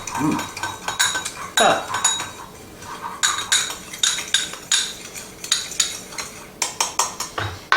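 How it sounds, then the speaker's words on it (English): A utensil stirs crushed garlic into ranch dressing in a bowl, making quick rhythmic clinks and scrapes against the dish. The close, bright tapping repeats steadily, with only occasional faint background sound. "And we stir that up and set that aside."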